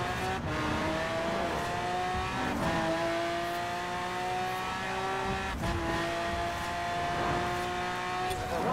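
A car drives fast in the racing video game Forza Horizon 4, its engine roaring loud and steady as it climbs through repeated gear shifts, with tire squeal and whooshing passes mixed in.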